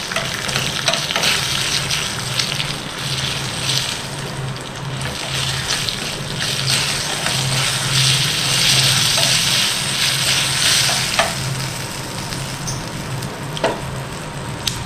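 Mustard seeds and urad dal fry in oil for a mango pachadi tempering, a continuous bright crackling sizzle with scattered pops and occasional stirring, close and steady.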